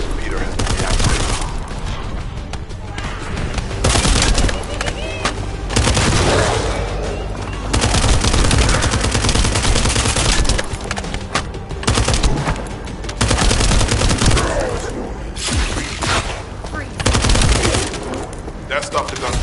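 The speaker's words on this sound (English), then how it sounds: "That stopped the gunfire." Dense bursts of rapid gunfire and booms in the video game The First Descendant fill the scene almost continuously, loud and close, with brief lulls between volleys.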